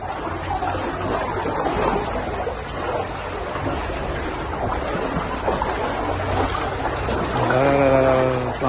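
Floodwater from a choked drain in Sangli's Nehru Nagar during heavy monsoon rain rushes in a continuous loud churn, with a brief tonal burst near the end and no speech.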